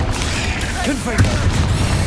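A Confringo fire spell explodes in Hogwarts Legacy, a booming blast with a burst of crackling debris. The explosion rises out of busy game noise, and a voice calls out in the clip.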